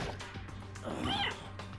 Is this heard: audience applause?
no